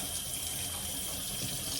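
A kitchen sink faucet runs steadily, a close, continuous hiss of tap water filling the basin with no pauses and no voices.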